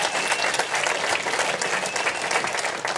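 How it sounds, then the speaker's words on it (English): A large audience applauds steadily and loudly, dense clapping filling the whole stretch without letting up, with a faint crowd murmur underneath. "People clapping their hands into bloody nubs over here."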